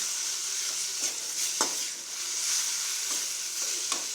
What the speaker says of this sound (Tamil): தேங்காய் பூ போட்டுக்குவோம் அதை நல்லா கலரு விட்டுக்குவோம்